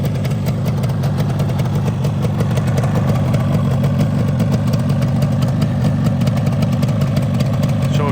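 The rebuilt engine of a 1981 Yamaha RD350LC motorcycle idles steadily and loudly nearby, a constant throbbing rumble with no change in pace throughout.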